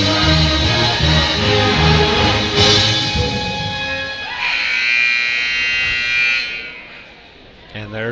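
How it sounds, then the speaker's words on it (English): A loud electronic buzzer blares for a few seconds in a high school basketball gym, over band music and crowd noise, with broadcasters talking nearby. "And there's the buzzer."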